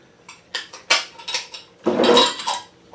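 Glass jars of sweet tart cherry moonshine getting their lids put on, a close series of clinks, taps and a metallic twist-scrape, with no voices.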